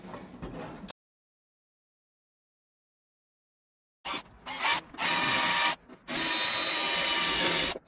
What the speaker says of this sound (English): we're going to put some holes through the bottom here